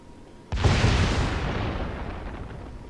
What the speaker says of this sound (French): un obus perdu, on va dire